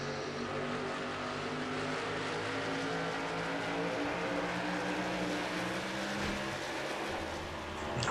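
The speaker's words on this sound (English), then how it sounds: "just seeing the cars fly by" Race cars at Loudon speed past on the track in a continuous loud engine roar, several cars blending into a sustained drone with no gaps.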